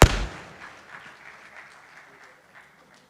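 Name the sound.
audience applause at launch event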